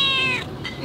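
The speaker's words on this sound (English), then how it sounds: "This cat has become infatuated with Schlebby" A cat meows once near a town in Perast, Montenegro, giving a loud, close, drawn-out cry that fades into soft room noise.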